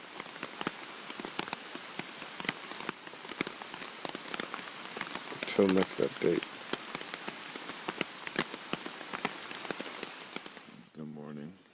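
Steady rain patters densely on a tarp overhead during a solo stealth overnight camp, with scattered louder drops and a soft voice speaking briefly near the end.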